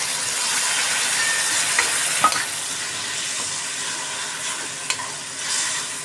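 Onion, tomato, turmeric and drumsticks cooking together in a pan, a loud continuous hissing sizzle close by, with a few brief scraping clicks of stirring.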